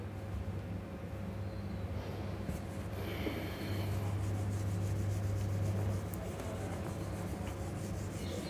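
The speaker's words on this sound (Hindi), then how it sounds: "चलिए इसको रब करते हैं" An eraser rubs out working on a board or notebook during a Class 8 geometry lesson: continuous close scrubbing friction with a steady low hum underneath, a little louder in the middle stretch, and no talk.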